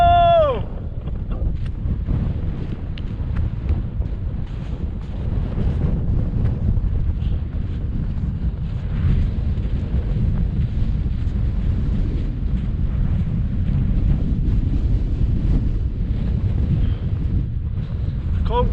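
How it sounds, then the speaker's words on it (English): Cold wind blasting across a mountain summit in the Scottish Highlands, a loud constant low roar buffeting the microphone for the whole stretch, with a brief whistle-like tone at the very start. "Cold wind."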